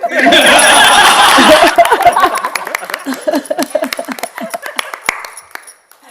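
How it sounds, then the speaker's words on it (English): An audience claps together during a ceremony, with dense applause at first thinning into scattered individual hand claps, mixed with laughter and voices. "give a round of applause for yourselves and for everything"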